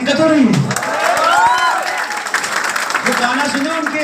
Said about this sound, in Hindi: तो क्या ताली बजाने में दिक्कत हो रही है?